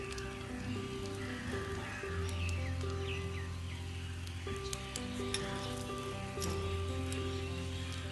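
Miniature rawa dosa frying in oil with chopped onions: a steady, close sizzle with small crackles, continuous throughout, with a faint tonal hum underneath.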